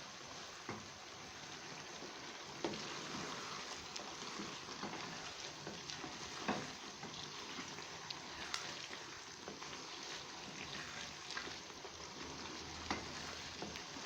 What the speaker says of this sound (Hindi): अब हम अच्छी तरह से इसकी भुनाई करेंगे।